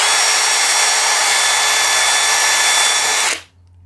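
A power drill with a Milwaukee Red Helix impact drill bit bores a hole under sideways pressure, a loud, continuous high whir that cuts off abruptly near the end.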